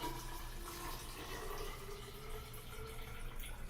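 Water tinted with green food coloring pours steadily into a laboratory measuring cylinder, a soft continuous trickle and fill sound at low volume with a faint background hum.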